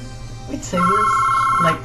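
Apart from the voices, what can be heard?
mobile phone ringing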